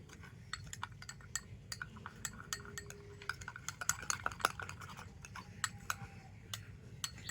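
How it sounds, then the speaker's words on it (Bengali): A spoon clinks and scrapes repeatedly against a bowl while stirring coffee into a shampoo mixture, producing irregular close, bright taps and clicks over a quiet background. "তো কফি দিয়ে আবার একটু ভালো করে মিশিয়ে নেব"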